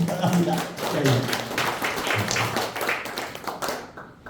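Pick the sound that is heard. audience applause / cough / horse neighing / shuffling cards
audience applause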